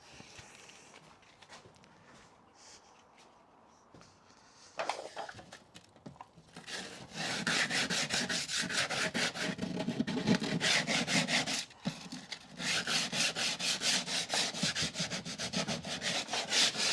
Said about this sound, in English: So it's just to get a bit of sandpaper and just.